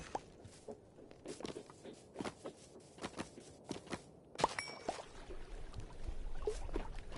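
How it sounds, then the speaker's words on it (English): A dog's tail thumps against an indoor wall in a string of dull, uneven knocks, some of them quick and clustered, over a low room hiss. "I think that's my dog's tail hitting the wall."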